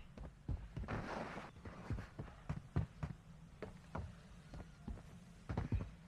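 Footsteps sound in Warzone Mobile, a series of soft thudding steps at an uneven walking pace, moderately close and quiet, with no talk over them.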